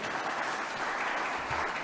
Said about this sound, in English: Applause to my friend Susana.